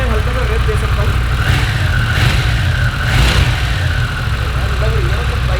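A Harley-Davidson touring superbike engine idles steadily on a cold start, then revs up briefly a few times with short throttle blips, close and loud, over a low rumbling idle.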